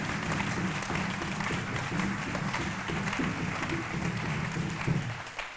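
Audience applause at a French-language midday radio show, steady clapping and murmur for a young guest, with a fuller burst near the end before it fades.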